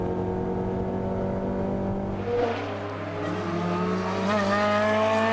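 Lotus race cars at Magny-Cours during a Lotus Cup Europe race, a steady loud engine drone with a higher engine note sweeping in midway as another car closes and passes.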